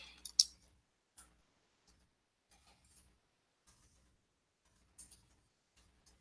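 Sparse, faint key clicks from typing in a chat box, scattered irregular taps with long quiet gaps between them, close and soft.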